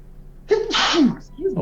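One person sneezes loudly and close by after a brief intake of breath, followed by a short voiced sound at the end.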